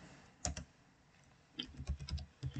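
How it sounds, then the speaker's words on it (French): A password being typed on a computer keyboard: a single sharp key tap, a pause, then a quick run of light clicking keystrokes in uneven rhythm, close and quiet with no talking. "Ici, donc, je tape le mot de passe."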